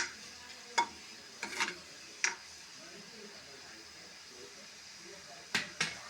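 A spoon stirs ingredients frying in a pan for papadam curry, a soft steady sizzle broken by a few sharp scraping clicks against the pan, faint and close.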